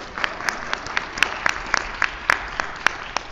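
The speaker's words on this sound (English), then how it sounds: "I'll let you clap." Sparse, uneven clapping from a church congregation during a Sunday sermon, a couple of dozen distinct claps scattered over about three seconds with no voices.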